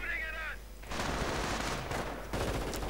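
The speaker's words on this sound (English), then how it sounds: "Panzer is firing away." Tank cannon and gunfire in a World War II strategy video game, a dense crackle of shots and blasts under a narrator's voice, with a brief whistling tone at the start.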